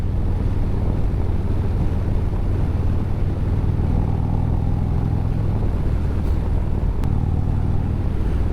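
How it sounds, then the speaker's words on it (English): A new Harley-Davidson Street Glide motorcycle engine rumbles low and steady while riding, with wind buffeting the microphone throughout and no talk. "Cruising around on a new Harley Davidson."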